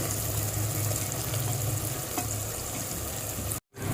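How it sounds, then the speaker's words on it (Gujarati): Spiny gourd (kantola) tossed into hot oil with cooked spices, giving a steady, close sizzle with a low rumble beneath and a momentary cutout near the end. "હવે કંટોલા નાખી દઈશું."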